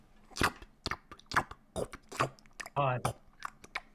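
A voice imitates eating ice cream off a spoon, making close, exaggerated wet slurping, smacking and chewing noises in short bursts, with a brief sustained moan-like tone in the middle.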